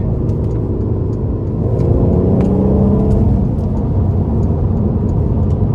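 A 2014 Mercedes-Benz SLK 350 convertible's V6 engine with 7-speed transmission revs up with a rising, throaty whine and steady road rumble, heard from inside the vehicle as it accelerates.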